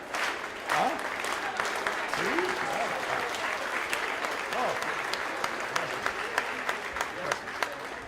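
Steady clapping from a group fills the room, continuous and fairly close, with a few voices murmuring underneath.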